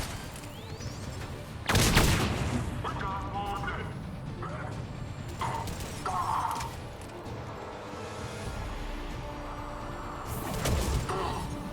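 Gunfire in the Mass Effect 3 video game, a few loud shots spaced several seconds apart over a steady game background of rumble and clatter, with a voice talking at points.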